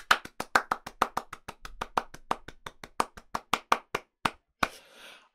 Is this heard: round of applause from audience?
yes